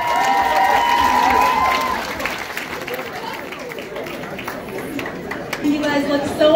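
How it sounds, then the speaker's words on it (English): A crowd applauds and cheers an engaged couple at their engagement entrance, loud clapping strongest in the first two seconds, then softer clapping and chatter continue, with a voice speaking over it. "let's give this stunning couple another round of applause"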